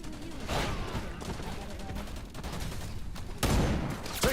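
Bursts of gunfire in the shooter Wild Assault, with sharp loud volleys near the start and again toward the end over a busy battle backdrop; a voice talks briefly.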